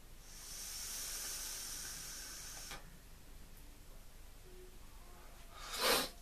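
A long exhale of vapor from an Aromamizer RDA by Steam Crave makes a soft, steady hiss that fades after a few seconds. A short, sharp puff follows near the end.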